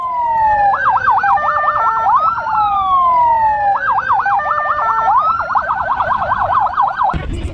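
A loud ambulance siren sounds close by, switching between long rising-falling wails and quick yelping bursts, repeating steadily.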